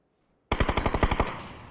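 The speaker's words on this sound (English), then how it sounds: "Let them have their shots with the DMRs for as long as they can." DMR rifle fire in the battle royale game PUBG during an esports match, a rapid burst of about ten evenly spaced shots ringing out loud and close, then a fading tail.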